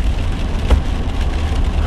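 Steady rain falls during a December walleye fishing trip on Oneida Lake, New York, a continuous close patter with a breezy wash and one brief louder splash, no voices.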